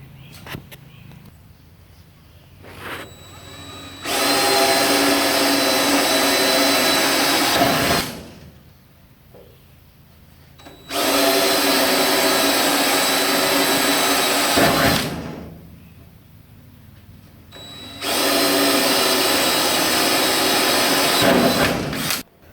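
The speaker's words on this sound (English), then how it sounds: "I drilled the panel out with a small bit to start with, went all the way around." A power drill with a small bit drilling out a rusty kick panel on a 1966 Ford Bronco, three long, loud steady whining runs separated by quiet pauses, close up and without talking.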